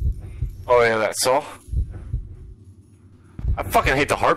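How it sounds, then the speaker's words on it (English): A heartbeat in the horror video game Dungeon Nightmares 2 thumps in low, steady pulses under someone speaking, clearest during a quiet pause mid-clip. "I fucking hate the heartbeat, dude."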